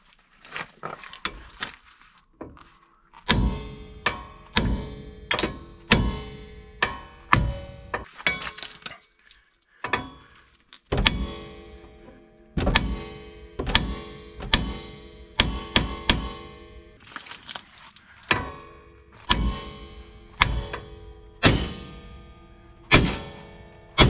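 Metal hammer blows strike a ball joint on a VW T4 van, dozens of sharp ringing clanks in irregular bursts, close and loud with short pauses between groups.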